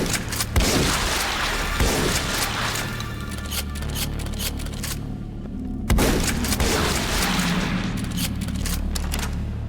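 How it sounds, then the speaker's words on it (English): Biomines exploding in the game Ashes 2063, loud close booms and crackling blasts layered with a constant low roar, with a fresh heavy burst just before midway after a brief lull. "Fly at you and explode. Hence, biomines."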